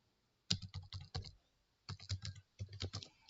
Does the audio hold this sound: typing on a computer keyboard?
yes